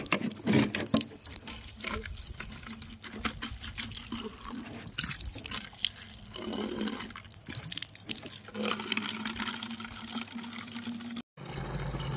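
Water pours into bottles outdoors in bright sun, a continuous splashing, gurgling flow with some patter, close and fairly steady, with a brief break near the end.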